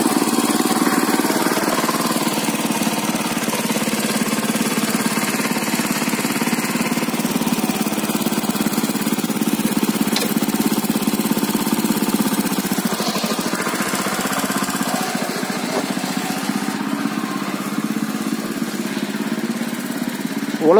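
A tractor engine works steadily while plowing a sandy field, a close, loud, continuous mechanical rumble that holds throughout with no break and no talk.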